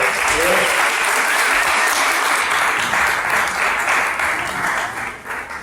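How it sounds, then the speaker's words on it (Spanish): Steady applause from a church congregation, loud and sustained for several seconds, tapering slightly toward the end. "Un aplauso, por favor."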